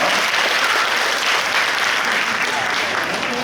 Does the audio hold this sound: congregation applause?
yes